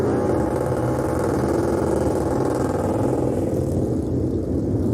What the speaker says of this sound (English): The 18 doing the burnout there because he just won the owner's title.